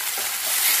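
Oil frying for a homemade mint (pudina) powder, giving a steady, close hiss of sizzling with a faint stirring texture throughout the short stretch, swelling slightly toward the end; nobody talks.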